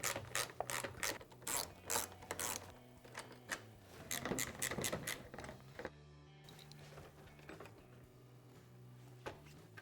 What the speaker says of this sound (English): Now we can take out the 4 screws in the upper panel and remove it.